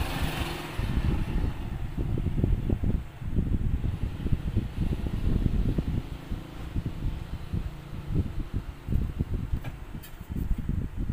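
A repaired mini electric fan with its blade refitted runs on switch setting one. It gives a steady, close, low whirring rumble with a faint fluttering pulse that carries on throughout.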